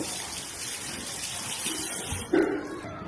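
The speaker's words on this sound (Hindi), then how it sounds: "हाथ भी धो लें।" Hands being washed under a running tap outdoors in China, a steady close rush of water that turns brighter and splashier toward the end.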